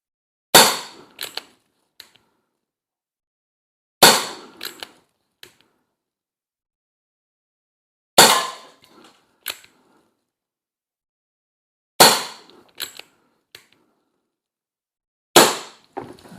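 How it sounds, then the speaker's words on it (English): A Sheridan Cowboy CO2 .177 BB gun fires at cans: five sharp, close cracks spaced a few seconds apart, each followed by small faint metallic ticks of hits, with silence between shots. "So I don't know where the BBs are shooting."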